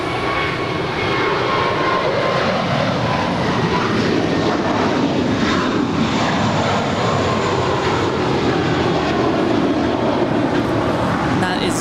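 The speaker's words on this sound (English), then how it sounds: "That is JetBlue 1388 on its way to Boston with the green tail." A JetBlue airliner at Los Angeles LAX airport roars on, a loud, sustained jet engine drone that holds steady throughout, with faint voices in the background.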